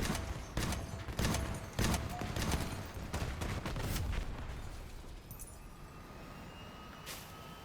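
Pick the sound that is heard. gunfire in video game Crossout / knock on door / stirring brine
gunfire in video game Crossout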